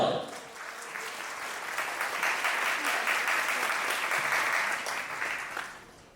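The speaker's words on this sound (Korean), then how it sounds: "여러분께 여러분 따뜻한 환영의 박수 부탁드립니다." A wedding ceremony crowd gives sustained applause to welcome the speakers, a dense, even clatter of many hands that swells, holds for several seconds, then tapers off.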